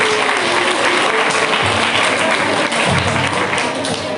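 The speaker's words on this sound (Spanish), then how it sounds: "aquí es donde yo pido también un aplauso para los profes que reconocen nuestros valores" An audience applauds teachers at a school literature event with an author, a dense, loud, sustained clapping that fills the room evenly from start to finish.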